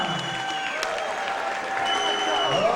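Applause and light cheering from an audience welcoming a young man on stage, moderately loud and mixed with tonal background sounds and some crowd noise.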